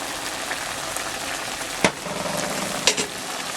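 Squid ink pasta sauce sizzles and fries in a hot pan, a steady crackling hiss with a couple of sharp clinks from a utensil stirring against the pan.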